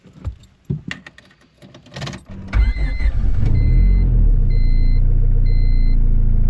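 A built single-cam car engine, set up for a high-boost test, cranks after some handling and clinking noises, catches quickly and settles into a loud, steady idle with a faint high whine over it.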